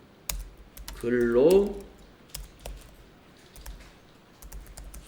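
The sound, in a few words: typing on a computer keyboard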